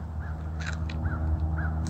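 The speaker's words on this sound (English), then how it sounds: "I got a whole pile of crows down here going crazy" Several crows caw in repeated harsh calls, roughly four or five spaced bursts over a steady low rumble of background noise, fairly close and with no talking.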